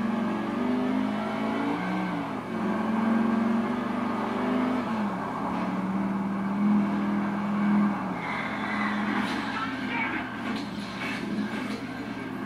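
Car driving in Grand Theft Auto IV, a continuous engine drone with pitch shifts as it revs and eases off, joined by faint tire squeals and traffic noise, steady and moderately loud throughout.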